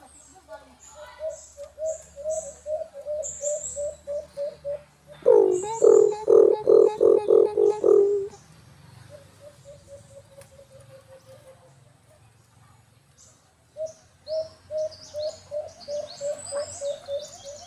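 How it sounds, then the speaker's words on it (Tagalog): Pigeons cooing in repeated rhythmic phrases, with a louder, closer burst of deep coos midway and softer calls before and after, nearby and clear. "Kumakampay din mga birds."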